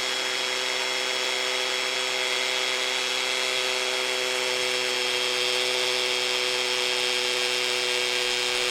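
A Milwaukee M18 Fuel Gen3 drill driver running on its low-speed setting 1 while pushed hard into the workpiece, making a continuous, close, high-pitched motor whine that holds steady without bogging down, with no voices.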